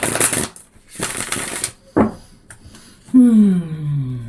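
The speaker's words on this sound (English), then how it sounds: "Needs a shuffle." Tarot cards shuffled by hand in two quick riffling bursts with a short flick after, followed by a low-pitched voice starting to speak.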